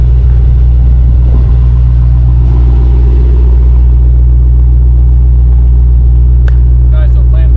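A 1025-horsepower Dodge Demon 170 throbs with a deep, heavy engine rumble, very loud and close and constant throughout, with faint voices briefly surfacing near the end.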